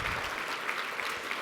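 Brief, fairly quiet clapping from a seated audience at a donor recognition event, a soft continuous patter of many hands lasting just over a second.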